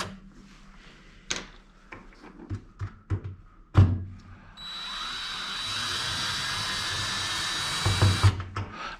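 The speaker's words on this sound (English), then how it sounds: "I was like starting the screw slowly so it doesn't automatically just strip the head." A power drill drives a screw into a salvaged piece, starting with a few knocks and handling clunks before a sustained whine runs for several seconds.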